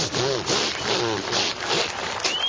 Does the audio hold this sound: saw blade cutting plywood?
yes